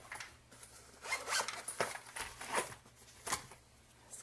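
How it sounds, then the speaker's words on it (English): Paper ends being trimmed off a finished handmade card for a Cricut card challenge: several crisp, close cutting strokes and rustles at an uneven rhythm, with no talking. "I'm going to cut my little ends off now that I have my card completed."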